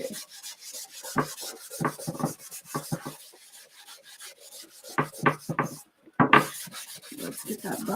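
Chalk paste buffed into a wood garden flag board, a series of short close scrubbing rubs in irregular bursts with brief pauses between strokes.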